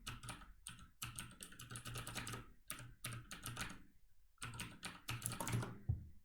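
Fast keyboard typing at a computer comes in close bursts of crisp keystrokes, broken by short silent pauses, with no talking.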